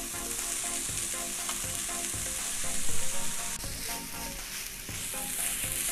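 Chicken pieces fry in a hot pan for a stovetop chicken lasagna, giving a dense, continuous sizzle and crackle with occasional stirring scrapes, close and steady throughout with no talking.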